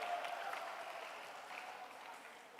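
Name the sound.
audience applause at a conference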